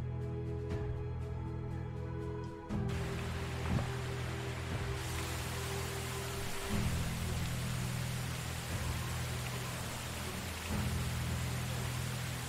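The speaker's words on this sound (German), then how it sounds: "Ich hoffe, der Regen hört dann irgendwann mal auf." Rain falls in the Medieval Dynasty game, a broad steady hiss that swells and fills in after a few seconds, with faint low tones underneath and no talking.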